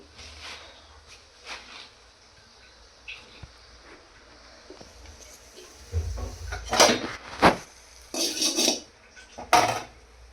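A cooking pot is handled and set down on a stove in a home kitchen, giving a few quiet metallic scrapes followed by several loud close clanks and knocks near the end; no one speaks.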